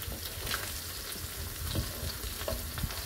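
Garlic, olive oil and chili pepper sizzle in a pan for Italian pasta aglio, olio e peperoncino, a steady close hiss with small crackles and pops and no talking.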